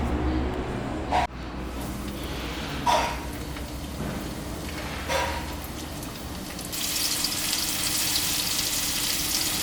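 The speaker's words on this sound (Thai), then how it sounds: "ให้เรานำปลาเรามาชุบในแป้งทอดกรอบนะครับ แล้วก็นำไปทอดในกระทะนะฮะ" Battered red tilapia deep-fries in hot oil in a wok, a dense, loud, rain-like hiss with a few sharp clinks, swelling brighter and harsher near the end.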